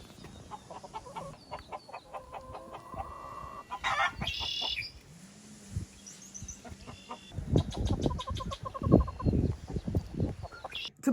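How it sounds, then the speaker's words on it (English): Hens clucking and squawking as they flee from roosters on a backyard farm, with a rooster crowing midway; agitated bursts of fowl calls come and go at moderate distance, growing busier toward the end. "this is what these hens do when they're trying to get away from those roosters"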